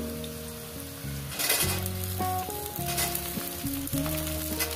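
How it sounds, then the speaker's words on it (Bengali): Okra and potatoes sizzle steadily in a hot frying pan over medium gas, a continuous close crackle under soft background music. "এবার ঢ্যাঁড়সগুলো দিয়ে দেবো।"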